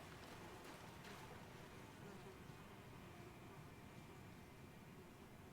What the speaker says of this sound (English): it's just flies buzzing around